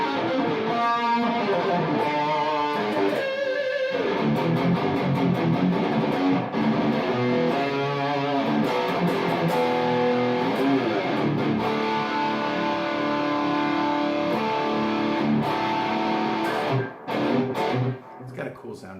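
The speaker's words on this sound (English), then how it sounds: "I'm using PRS S2, running it through Mesa, mini rectifier into a 4x12 Vintage 30" A PRS S2 guitar runs through a Mesa Mini Rectifier into a 4x12 Vintage 30 cabinet, giving a thick, saturated metal tone with sustained chords and choppy palm-muted riffs that play continuously and loudly.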